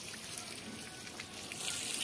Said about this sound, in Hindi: देखे दोस्तों हमारा डिब्बा पहली दफा नहा रहा है